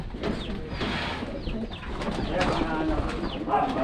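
Pigeons coo repeatedly close by, their soft burbling calls overlapping, while voices murmur faintly in the background.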